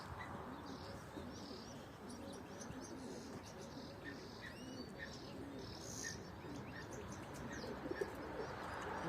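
Pigeons circling high above a rooftop loft, soft cooing and chirps scattered through a steady outdoor wash, with a few faint flutters near the end.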